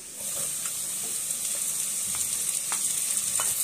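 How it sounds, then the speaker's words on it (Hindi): Finely chopped onion fries with potatoes in a pan for a vegetable omelette, giving a continuous close hiss and crackle with a few light stirring clicks. "ये भी हम आलू के साथ फ्राई करेंगे प्याज को।"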